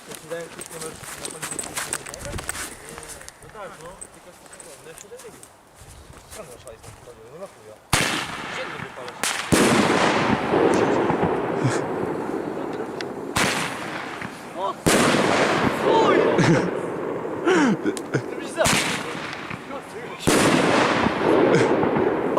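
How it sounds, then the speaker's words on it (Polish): Hotball fireworks go off in loud, close bangs and crackling bursts at a New Year's Eve celebration, separate blasts repeating after a quieter opening while people talk and shout. "To odpalamy hotballs od"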